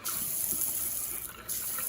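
Steady rushing of tap water pouring from a newly repaired kitchen faucet into the sink, continuous and fairly close, with no talking over it.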